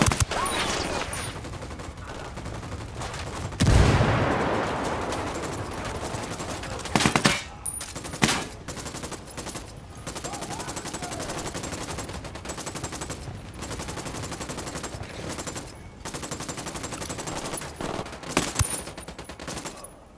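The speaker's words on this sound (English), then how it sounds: "Open fire." Gunfire crackles across a firefight in Ghost Recon Wildlands, with a heavy blast early on, then scattered sharp shots and short bursts at varying distances over a steady background rumble.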